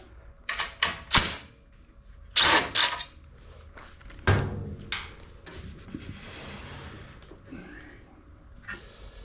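Power tool spinning out a bolt on a Briggs and Stratton Quantum small engine, with several sharp bursts of whirring and clanking close by, pauses of shop handling noise between them and no talk.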